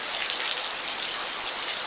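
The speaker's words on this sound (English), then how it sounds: "It's pouring rain." Heavy pouring rain falls steadily as a dense, even hiss of drops with small splashes, close and continuous, with no voices.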